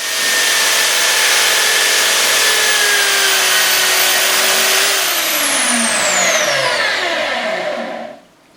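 Water-cooled whetstone sharpener grinding the secondary angle onto a chisel end, a loud steady motor whine with grinding hiss that runs evenly, then drops in pitch as the motor spins down and stops near the end.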